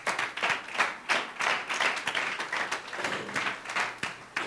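Clapping from a small audience at the close of a Bible study talk. Distinct claps arrive in a loose, uneven rhythm, fairly close and moderately loud, with no talking over them.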